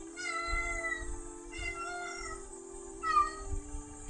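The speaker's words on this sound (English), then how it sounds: "Sorry, my cat is losing his brain again." A pet cat meows repeatedly nearby, three drawn-out, wavering cries in a row, fairly close and clear over a steady low hum and some soft thumping.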